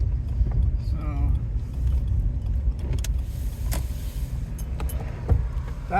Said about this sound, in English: that was the car that we changed the tire